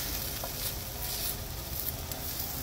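Honey mushrooms (Armillaria) frying in a pan, giving a steady, fine hiss that holds at an even low level with no pauses.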